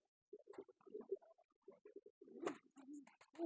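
A pigeon coos softly in short low murmuring bursts close by, faint and intermittent with a few brief gaps, no talking over it.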